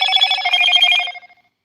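A telephone rings in an NES Godzilla creepypasta game, a bright electronic trill lasting about a second before cutting off into silence, loud and close with no talk.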